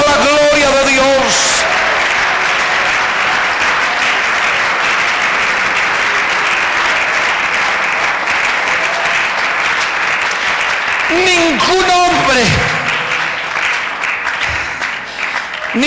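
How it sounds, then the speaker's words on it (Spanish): A church congregation applauds during a Sunday school service, a loud, dense wash of clapping that fills the room continuously, with a voice speaking briefly at the start and again near the end. "Alguien que aplauda la gloria de Dios"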